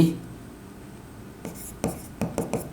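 Pen writing by hand on paper while working out a binary number conversion, a few short scratchy strokes coming in quick bursts near the end, close and quiet.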